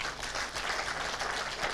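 Audience at a university launch event applauding Dr. Benjamin Musita, a soft, steady spread of clapping heard at some distance, brief and even.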